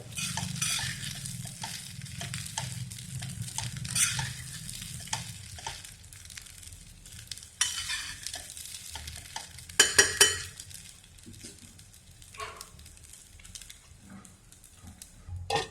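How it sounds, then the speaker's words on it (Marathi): Sabudana khichdi fries and sizzles in a pan while a spoon stirs it, a steady crackling hiss broken by occasional scrapes and clinks of utensil against metal. "1-2 मिनिटं आपण याच्यावर 1-2 मिनिटं हलवून घेऊ अगोदर"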